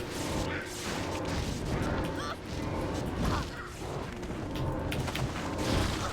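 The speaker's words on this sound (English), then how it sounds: "Look at those explosions." Chain lightning sentry trap explosions in the video game Diablo 2, a dense continuous barrage of crackling bursts and crashes layered with game effects over about six seconds.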